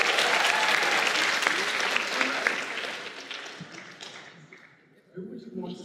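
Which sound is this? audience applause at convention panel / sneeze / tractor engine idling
audience applause at convention panel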